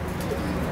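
Pigeons at a pigeon market give a short, soft, low cooing amid a busy background murmur.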